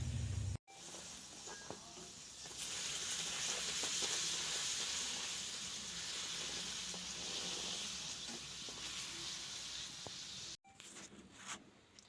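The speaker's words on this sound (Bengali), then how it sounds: "লুচিটা ময়দা মাখা হয়ে গেছে এবার ভেজে নিই" Luchi, puffed wheat-flour flatbread, sizzles as it fries in hot oil, a steady loud hiss that runs for several seconds between brief gaps and rises in intensity partway through.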